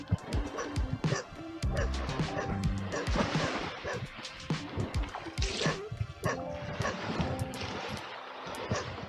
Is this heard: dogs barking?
yes